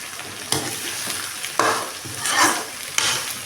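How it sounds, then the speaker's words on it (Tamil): Bitter gourd sautés in hot oil with a constant crackling sizzle, punctuated by about four sharp spatula strokes against the pan. "இது கொஞ்சம் இந்த எண்ணெயில் வதங்குது"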